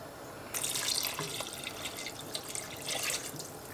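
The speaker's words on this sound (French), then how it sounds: "Donc je mets 1 litre d'eau et je vais ajouter 3 cubes dedans." Water poured into a pot for beef broth starts abruptly and keeps flowing, a steady splashing stream close by and moderately loud, with no talk.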